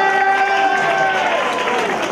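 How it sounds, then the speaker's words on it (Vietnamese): Crowd applause at a St. Lucas Charity Foundation fundraising gala dance, a dense continuous wash of clapping and cheering from a large room, mixed with sustained music tones and faint voices underneath. "Xin cho một tràng pháo tay cho liên gia Lucas."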